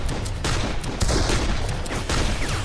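Gunfire in the video game Darkest of Days comes as a dense, continuous volley of rapid shots that stays loud and steady throughout the short stretch.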